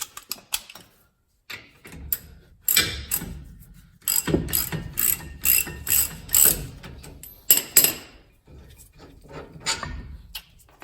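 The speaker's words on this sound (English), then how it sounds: "once you break them loose, you switch over to your ratchet." A hand ratchet clicks in quick bursts while loosening 21mm rear brake caliper bolts on a RAM truck, the close metallic pawl ticks starting and stopping in uneven runs.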